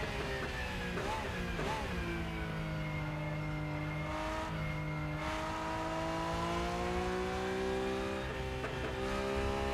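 Racing car engine in the sim racing game Rennsport, a steady loud rev that climbs and dips through gear changes with strong harmonic whine, continuous and close with no talk.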